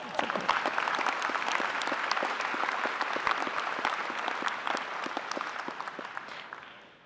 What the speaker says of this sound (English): well, you can applaud that if you want.